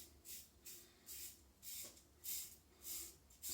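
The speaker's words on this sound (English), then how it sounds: "It's just the sound of the blade going through the hair." A standard razor blade scrapes through hair during a shave, giving faint, rhythmic hissing strokes that repeat about every half second, close up and quiet.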